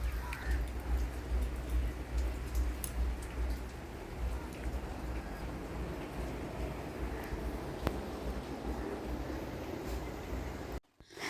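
Steady rain pouring down on a dark rainy day, a dense continuous patter with scattered sharper drips, close and even until a brief cut near the end.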